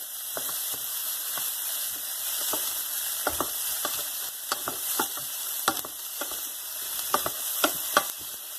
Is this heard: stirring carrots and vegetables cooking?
yes